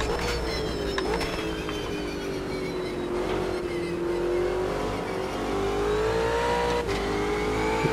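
An Ultima GTR race car accelerates hard around Bathurst in a racing video game, its engine a loud sustained roar climbing in pitch, with brief shift dips.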